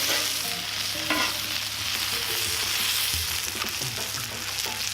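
Cheeseburgers sizzle on a Lodge 14-inch cast iron griddle, a steady loud frying hiss with occasional pops and spatula scrapes, close by and continuous, with no speech.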